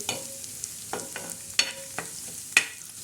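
Coriander seeds and spices roast in a pan for a bitter gourd masala, giving soft crackles and stirring scrapes with a few sharper pops scattered over a quiet background.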